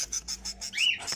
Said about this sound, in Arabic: اللي هي طيور البادجي او الاسترالي. طبعا ده الذكر اهوت